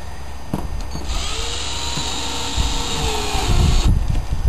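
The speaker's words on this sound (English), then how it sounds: "You want to drill a hole for me?" A power drill bores a hole, whining steadily for about three seconds at close range amid handling clatter and knocks before it stops.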